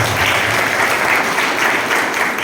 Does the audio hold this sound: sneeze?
no